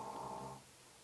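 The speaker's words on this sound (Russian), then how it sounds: "Вы слышите, Софи храпит." A pet dog snores softly in a quiet room, a single drawn-out rasping breath lasting about half a second before fading into near silence.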